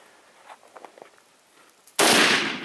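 A loud, sharp rifle shot fired at a Cape buffalo during a hunt in Africa bursts in suddenly and decays over about half a second, after quiet rustling and faint footsteps.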